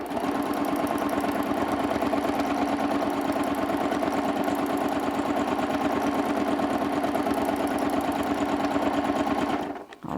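A sewing machine runs continuously at a fast, even stitching rhythm while free motion quilting a swirl border, a close mechanical whirring chatter that stops abruptly at the end.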